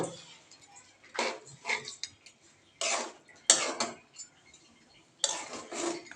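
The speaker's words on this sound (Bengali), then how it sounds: "এবার একটু নাড়াচাড়া করে নিতে হবে" Tengra fish being stirred in a cooking pan, several separate bursts of metal scraping and clinking from a spatula against the pan, with quiet gaps between strokes.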